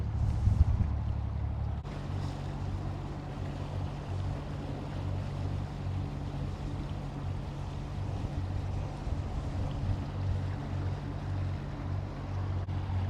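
An IPB skiff cruises across the water with a steady low engine drone and rushing water noise, continuous and fairly close throughout.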